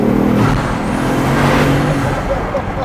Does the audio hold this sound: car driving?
yes